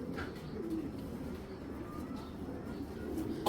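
Pigeon cooing, a black hen of the Baghamadi racing type, heard as low murmuring coos close by, with faint background noise and a brief sharper sound at the end.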